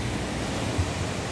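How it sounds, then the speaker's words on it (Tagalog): Gusty rain by the sea on a cloudy day, heard as a steady, dense hiss of rain and surf with a brief low rumble, no voices. "Bugso yung ulan dito sa amin guys."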